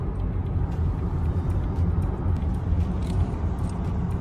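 An electric car cruises along a US highway on a long road trip, heard from inside as a steady low road and tire rumble with constant engine-free hum and faint wind noise, no voices.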